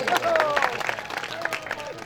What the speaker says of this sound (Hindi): वो दादाजी के लिए जोरदार तालियां बजाओ पहले